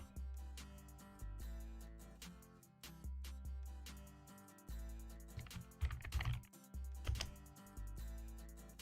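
Computer keyboard typing in steady bursts of close, crisp keystrokes, with a few heavier clustered taps partway through and no talking.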